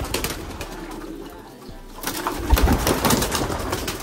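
Pigeons coo nearby in soft, low calls, with a brief rustle partway through and no one speaking.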